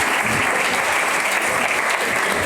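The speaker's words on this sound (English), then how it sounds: "and applause is yours." Audience at a panel discussion on options for students in the startup scene applauding, a dense, loud wash of clapping filling the whole moment.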